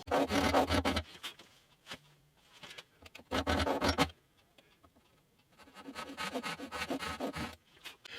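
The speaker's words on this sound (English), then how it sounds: "Now I'm going to cut those with a fine saw." A fine saw cuts string slots in a guitar nut on a vintage steel-string guitar, giving three bursts of close, scratchy rasping strokes separated by quiet pauses.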